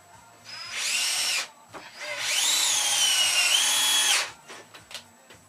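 A power drill whines loudly in two bursts, the motor pitch rising and bogging as it bores pilot holes into a wooden workbench frame, with quiet handling noises between.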